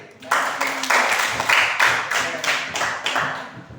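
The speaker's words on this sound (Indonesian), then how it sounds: "tepuk tangan untuk Eri." Students clapping in a classroom for a classmate's presentation: a short burst of rhythmic group claps in pulsing waves, fairly close and loud, with some voices faintly mixed in.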